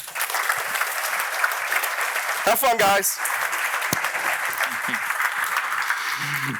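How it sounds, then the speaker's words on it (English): An audience at a design talk gives a sustained round of applause, dense clapping filling the room while a brief voice and whoops cut through midway. "Give it a round of applause."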